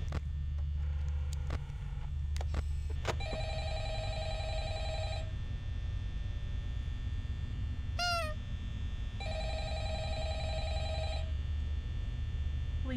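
A telephone in the video game Five Nights at Freddy's rings in two long, steady electronic trills separated by a short gap, over a constant low hum, with a few sharp clicks before the rings and a brief chirp between them.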